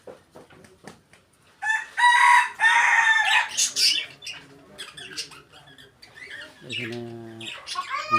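Chickens and a rooster on a hot, sunny poultry farm, loud squawks and clucking bursts close by, with crowing-like calls and faint talk in the background.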